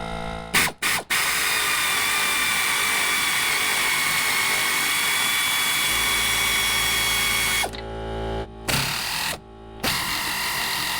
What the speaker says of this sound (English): Once the bolts are loose, I switch over to air tools to finish the job.